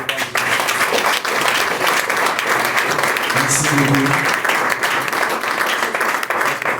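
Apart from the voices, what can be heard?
audience applause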